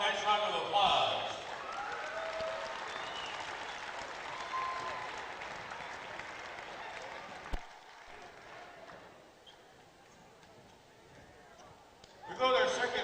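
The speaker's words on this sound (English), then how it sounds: "How about a nice round of applause?" Sustained crowd applause and cheering fill a gym at a girls' regional high school basketball championship, loud at first and then fading to a quieter murmur before a final burst of clapping.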